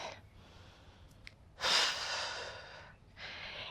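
Breaths during a home workout: a short exhale, then a long, loud, airy breath up close, followed after a pause by another softer breath.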